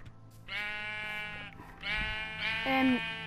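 A Minecraft sheep bleats several times in drawn-out, wavering calls, fairly close, over a low background hum, with a brief knock in between.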